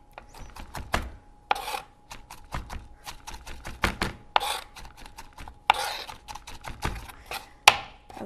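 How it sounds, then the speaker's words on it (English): A knife chops onion on a cutting board while a salad is being prepared, a run of quick, irregular, close-up taps with brief pauses between bursts. "I'm actually going to chop these just a bit more."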